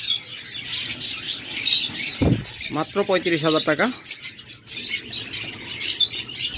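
Small local-breed pet birds chirp and tweet in quick bursts close by, their calls mixed with a voice talking over them.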